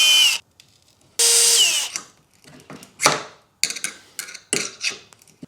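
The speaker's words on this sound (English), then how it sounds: "Alright, just got done putting the screw eyes in." A cordless power drill drives screw eyes into a wooden ice fishing sled, whirring in loud bursts that rise and cut off, with clicks and handling knocks between runs.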